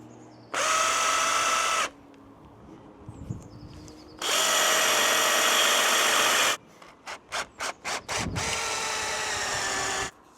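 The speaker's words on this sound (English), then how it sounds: "I'll go through as far as I can with this 8mm auger" A power drill spinning an 8mm auger bit bores holes in timber for a backyard swing frame, running in long loud bursts separated by pauses, with a quick series of short trigger pulses before a final run; no talking.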